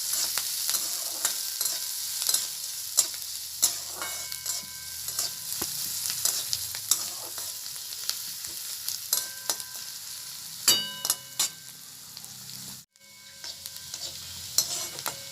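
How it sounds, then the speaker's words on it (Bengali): Chopped onion and garlic frying in a pan, a continuous sizzle broken by frequent scraping and clinking stirs of a spatula against the pan, close up. "পেঁয়াজটা লাল লাল করে ভাজা হয়ে গেছে।"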